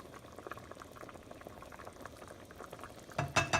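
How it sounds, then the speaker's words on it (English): Red beans for Creole red beans and rice boil in a pot with a continuous bubbling and popping, moderately close, ending in a louder burst of clatter and splashing. "while it's boiling, right, every once in a while, you should give a good stir"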